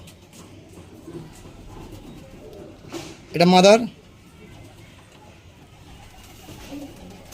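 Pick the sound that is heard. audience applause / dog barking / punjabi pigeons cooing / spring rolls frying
punjabi pigeons cooing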